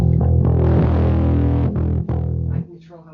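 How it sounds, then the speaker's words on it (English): Electric guitar played through an organic-sounding distortion pedal on a pedalboard, sustained overdriven chords ringing loud and close, with a few brief breaks between strums before fading out. "a very foundational sounding but organic distortion"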